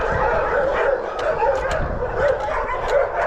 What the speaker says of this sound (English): Perhaps it's stray dogs, I'm not sure.